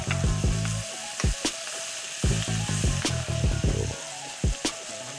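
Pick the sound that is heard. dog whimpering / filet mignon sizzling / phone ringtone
filet mignon sizzling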